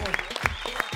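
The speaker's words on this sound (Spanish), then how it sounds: "Aplauso para el mago, por favor." Audience applause for a magician on a Spanish-language TV variety show, a brief burst of clapping with a voice speaking over it, fairly close and lively.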